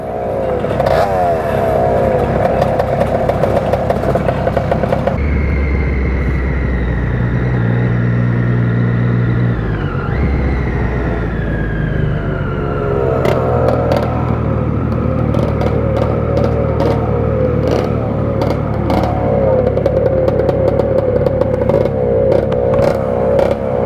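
Motorcycles such as a Yamaha DT200R two-stroke, a moped and an XTZ125 on a group street ride, loud close engines revving and droning, with pitch rising and falling as they accelerate and shift.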